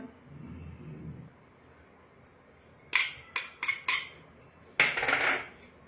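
Boiled potato is worked together with cornflour and spices in a bowl, heard as a few sharp clinks and scrapes of a utensil against the dish, near and intermittent, with quiet pauses between bursts.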